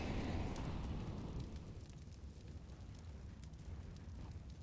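A grenade explodes on Dust 2 in Counter-Strike, a roaring blast that starts loud and slowly decays into a rumbling wash, with faint sharp clicks scattered over the tail.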